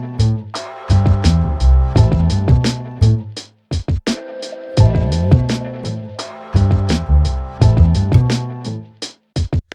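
Quantized sixteenth-note phrase played back in Logic Pro, with notes snapped to the grid: evenly spaced percussive hits and pitched notes in a steady mechanical rhythm, loud and close, broken by brief gaps.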